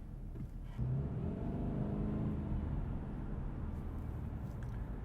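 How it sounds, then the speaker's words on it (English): A 2020 Subaru Legacy Touring XT with a turbocharged engine pulls under acceleration, a steady smooth engine drone with a rising whir heard from inside the cabin, fairly quiet and without talking. "the turbocharger comes in and provides another swell of power, and then the transmission's got to adapt for that, and the car's kind of surging"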